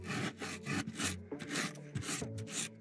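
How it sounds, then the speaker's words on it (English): A wire brush rasps repeatedly across a thin 1/32 inch sheet of balsa wood to put grain into it, a quick series of close, dry scratching strokes in an uneven back-and-forth rhythm. "I'm just going to put some wood grain into it with a wire brush"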